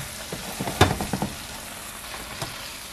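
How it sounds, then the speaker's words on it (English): Chicken with soy sauce sizzles in a hot pan, a steady close fry hiss broken by a cluster of sharp crackles and stirring clatters, then settling back to a quieter sizzle. "Everything's cooking so loudly. I know, it's sizzling."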